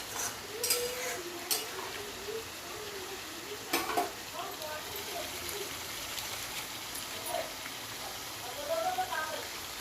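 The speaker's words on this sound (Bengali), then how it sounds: "এই পর্যায়ে এখন ভেজে রাখা ফুলকপিগুলো দিয়ে দিচ্ছি। একটু নেড়ে চেড়ে দেবো।" Fried cauliflower and boiled potatoes are turned in a pan, with a soft sizzle and occasional scraping clinks of the utensil while a voice talks over them.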